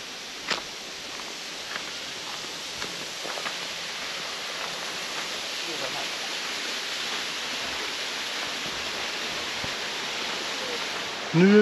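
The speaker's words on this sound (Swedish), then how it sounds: "hör ni hur det sipprar från vattenfallet?" Steady rushing hiss of a waterfall on Koh Chang, Thailand fills the scene, a constant broad wash with a few faint footsteps or knocks and a brief voice at the end.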